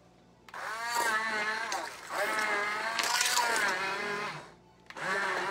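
A hand blender whirs through chunky potato soup in three long surges with brief pauses between them, its pitch wavering as it is dipped up and down.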